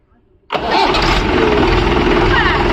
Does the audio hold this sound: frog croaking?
no